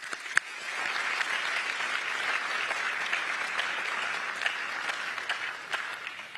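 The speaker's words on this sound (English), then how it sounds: "Please join me, ladies and gentlemen, in giving them a warm and wholehearted round of applause in recognition to their dedication." Sustained audience applause at a national ICT security challenge final, a dense, steady wash of many hands clapping for several seconds with no one talking.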